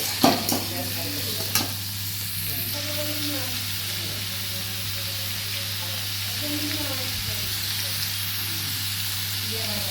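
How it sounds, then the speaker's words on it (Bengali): Chopped onions frying with salt in a pan for egg biryani, a steady close sizzle running throughout, with a few stirring knocks near the start and a constant low hum underneath. "এরপর ভালো করে পেঁয়াজটাকে একটু ভেজে নেব।"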